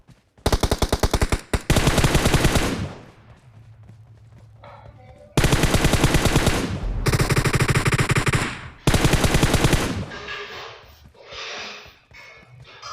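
Gunfire exchange in the battle-royale game BGMI: loud bursts of rapid automatic fire, each lasting one to two seconds, separated by short quieter gaps with faint rustling and movement.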